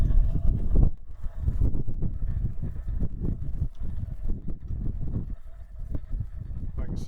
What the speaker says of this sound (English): there's quite a little bit of wind out here today